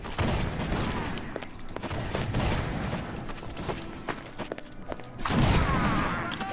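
Gunfire volleys crackle through a multiplayer war game battle between Holland and the Spanish Empire, several ragged bursts at mid distance with a heavier burst near the end and no speech.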